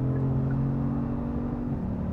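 A 2018 Genesis G80 Sport's 3.3-liter twin-turbo V6 pulling hard under acceleration, a loud, steady engine drone with smooth rising tone and road noise, heard alone without talk.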